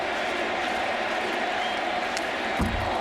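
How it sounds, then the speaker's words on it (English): A 1998 ballpark crowd at a Cardinals–Cubs game cheers and yells for Sammy Sosa, a steady roar from the stands that carries through the whole stretch, with a thump near the end. "And the crowd"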